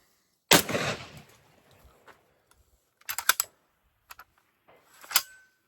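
A shotgun fired with no magazine fitted, giving one loud sharp blast with a quick decay, followed by several fainter mechanical clicks and clacks from the action.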